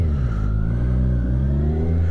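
Kawasaki Ninja 1000 SX sport-touring motorcycle engine running close and loud, a steady mid-pitched drone that rises slightly as it revs after stalling, with no talk over it.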